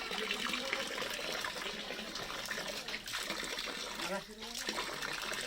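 Water pours steadily from a spout in a dense, splashing rush that fills the whole stretch, with faint voices murmuring underneath and a brief dip in the flow near the end.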